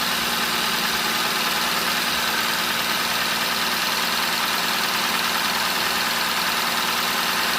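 A 2015 Kia Soul engine idling after an engine swap, a loud, steady mechanical drone with a rough, knocking undertone running unbroken throughout, no voices.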